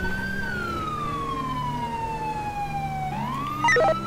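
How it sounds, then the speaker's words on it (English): Police car siren in the LSPDFR video game with NYPD vehicles. A loud, close wail glides slowly downward and then sweeps back up, ending in a quick burst of electronic yelp tones over road noise. "Ooh, man, you heard the siren."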